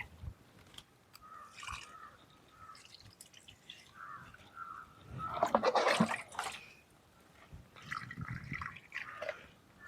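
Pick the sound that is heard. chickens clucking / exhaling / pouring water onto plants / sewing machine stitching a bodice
pouring water onto plants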